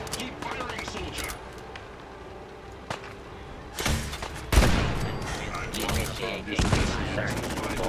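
Rapid gunfire and heavy blasts crackle through a chaotic Fallout 4 firefight, bursts of shots hammering close and loud over game noise as a voice briefly speaks.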